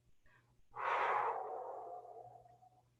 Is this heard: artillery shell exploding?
no